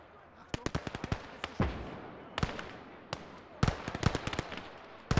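A rifle squad firing in the Gates of Hell: Ostfront video game, with sharp cracking rifle shots in irregular volleys and quick clusters, some close and loud, others lighter.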